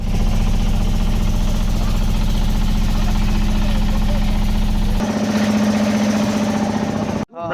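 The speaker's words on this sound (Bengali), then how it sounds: "আমরা এখন হচ্ছে ট্রলার উঠবো। এই যে সামনে ট্রলার দাঁড়ায় আছে" A trawler's engine idles at a jetty on the way to Nijhum Dwip island, a loud steady low rumble with constant vibration throughout, shifting slightly in pitch partway through before cutting off at the end.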